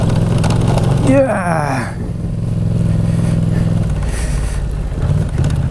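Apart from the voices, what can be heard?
Yamaha Tracer motorcycle riding on an off-road test track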